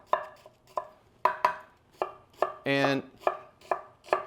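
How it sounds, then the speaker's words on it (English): Knife chopping onion finely on a cutting board: steady, close, crisp taps at an even rhythm, with a brief scrape partway through and no one talking. "So now what we want to do is finely chop the onion."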